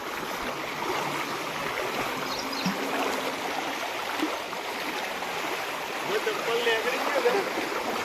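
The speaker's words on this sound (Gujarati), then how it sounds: "પાણી આપણને ખેંચી જાય તેટલું જોરથી વહી રહ્યું છે" A monsoon river in Banaskantha rushes strongly past, a steady broadband roar close by, with faint splashes and some distant voices in the background.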